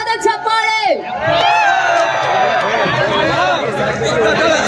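Crowd at a live stage show erupts in loud, sustained cheering and whoops as Sandy and team are brought on stage, with a brief raised voice at the start and a dense wall of crowd noise following.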